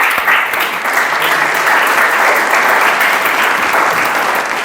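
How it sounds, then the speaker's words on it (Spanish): A church congregation breaks into loud, sustained applause, a thick, even roar of many hands clapping close by with no pause. "Tenga una aplauso al Señor"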